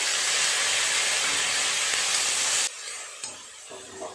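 Loud, steady sizzling of whole spices and bay leaves frying in a hot pan, which suddenly drops to a softer crackle with a few light clinks as chopped tomato is added.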